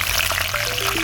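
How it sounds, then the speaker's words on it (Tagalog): Grouper (lapu-lapu) frying in hot vegetable oil in a backyard cooking setup, giving a steady, loud, dense sizzle and hiss with no talk. "Ipiprito muna natin yung ating lapu-lapu."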